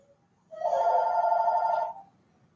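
A single loud personal alarm blares for about a second and a half, a buzzing, ringing electronic tone that starts and stops abruptly against near silence.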